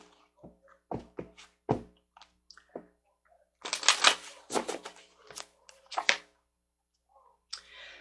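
Tarot cards being drawn and laid out from a deck during a reading: a run of sharp card snaps and taps, then bursts of brisk riffling shuffle, close and fairly quiet, with no talking.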